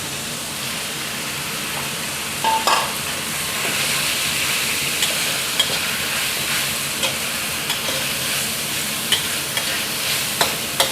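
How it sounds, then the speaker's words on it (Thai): Chinese kale and fatty pork hip meat stir-fried in a hot pan, with a continuous soft sizzle and hiss, punctuated by scattered light clicks and scrapes of the spatula, no talking. "ผัดให้คะน้าเริ่มสลดก่อนนะครับ"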